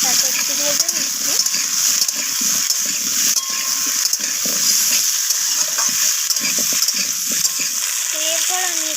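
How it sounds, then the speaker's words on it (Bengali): Potato and pumpkin pieces stirred in a pan and frying in tempered spices, a continuous hissing sizzle with intermittent scraping of the spatula, while a voice talks over it. "আলু কুমড়ো দুটোকেই আমি নাড়াচাড়া করে ফোড়নের সাথে একটু ভেজে নিচ্ছি"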